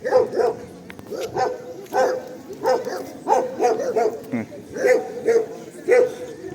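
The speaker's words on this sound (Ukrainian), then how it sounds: "Як собаки гавкають." Dogs bark in a steady, repeated rhythm at moderate distance near a pump room in Truskavets resort, with a voice and background chatter mixed in.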